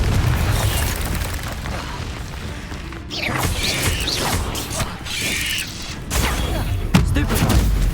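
Confringo fire spell blasts in the game Hogwarts Legacy, loud booming bursts with crackling and mechanical clanks, several sharp hits at the start and near the end over a dense roar of combat noise.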